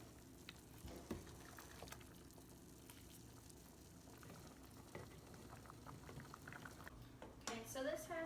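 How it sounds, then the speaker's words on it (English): Squash stew simmers in a pot with a continuous low bubbling and popping, quiet and close, while a voice speaks faintly over it near the end. "we let that simmer for about 20 minutes until the squash is like really soft"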